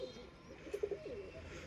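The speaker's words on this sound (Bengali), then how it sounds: "অসাধারণ একটি কবুতর" A golden pigeon coos softly nearby, a short low rolling call of a few quick pulses over faint room background.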